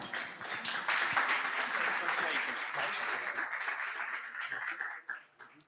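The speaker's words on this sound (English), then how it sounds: "please give him a round of applause" Audience applause greets a special guest at a travel awards ceremony, a dense steady clapping that fills the room for about five seconds before tapering off sharply at the end.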